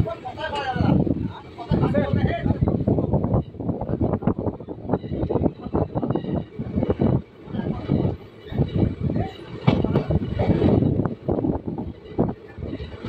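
A passenger train pulls out of Pachandi station, a rural stop, with rumbling, clattering wagons and wind noise rising and falling loudly near the microphone, while a voice talks over parts of it.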